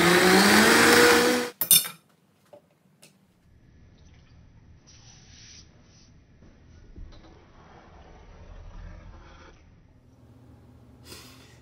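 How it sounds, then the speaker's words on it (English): A loud blender whirs at full power for under two seconds blending butternut squash soup, then stops abruptly, leaving faint clatter, soft handling noises and a low background hum. "now we're gonna blend it until it's very smooth"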